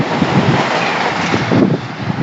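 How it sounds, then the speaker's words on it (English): A Great Western service pulls out of Southall station for Reading, a broad steady rumble of the train with wind buffeting the microphone, close and loud with no voices. "departing now is a service to Reading"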